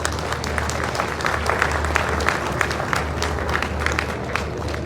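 An audience in a seminar hall applauds during a souvenir presentation, a sustained ripple of clapping at moderate distance over a low steady hum.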